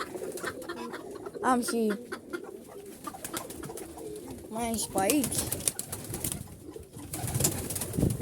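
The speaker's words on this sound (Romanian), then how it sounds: "Uitați, pui de porumbei." Soft pigeon coos repeat, with pigeon chicks nearby, amid a person talking in Romanian, with rustling and faint bird calls in the background.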